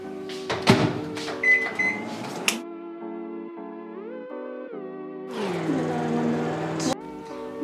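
A microwave oven runs with butter and chocolate inside to melt them, giving a steady tonal hum with shifting pitch, framed by louder clattering and beeping at the start and end.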